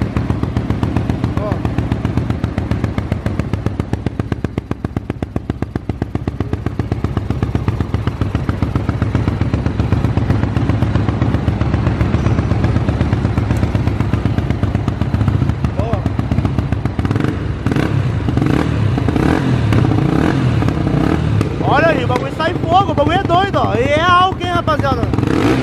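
A Honda Twister motorcycle fitted with an R1 piston runs loudly and steadily close by, its throbbing engine note broken late on by rapid crackling exhaust pops, with a voice talking over it.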